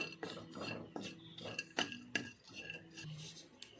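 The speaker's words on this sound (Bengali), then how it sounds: "জৈত্রী দিয়ে দিলাম জাইফল দিয়ে দিলাম হালকা আঁচে ভেজে নেব" Mace and nutmeg fried in a pan over low heat, heard as close clinks and scrapes of a utensil against the pan with a few sharper knocks, without talk.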